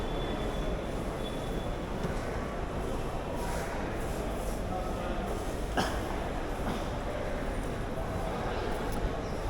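Trains rumble through a large echoing railway terminus in Mumbai, India, with a steady mechanical drone, faint squeals and a sharp metallic clank midway; a distant murmur of people.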